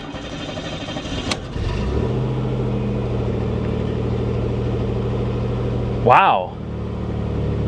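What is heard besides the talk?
1988 Chevy Cavalier Z24 engine starting and running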